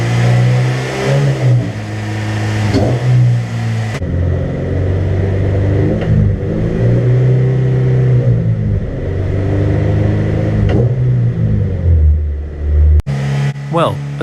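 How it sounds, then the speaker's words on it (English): A Honda EK9 race car with a B18C engine, running on a ramp, revs hard through the gears in repeated rising surges with brief dips at each shift, loud and close, with a short cut near the end. "car running on the ramp, it was time to run through the gears"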